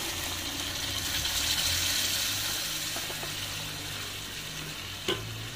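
Boiled chicken and chana dal stirred into a sizzling tadka in a village kitchen pan, a steady frying hiss with scraping stirs and a low background hum, one sharp knock near the end.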